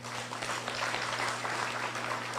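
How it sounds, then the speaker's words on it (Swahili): Audience at a political speech in California, clapping in steady, dense applause that holds at a moderate, somewhat distant level throughout, with no one speaking over it. "Mujipigie makofi."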